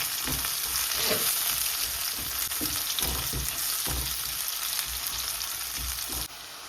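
Sesame oil sizzles and crackles loudly and continuously in a hot pan during tempering, foaming, with occasional stirring scrapes, close by.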